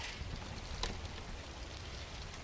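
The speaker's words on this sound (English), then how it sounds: "it's starting to rain on top of the paper" Rain patters onto a sheet of paper set out by an open door, a steady soft hiss with a brief sharper tap near the middle, no talking.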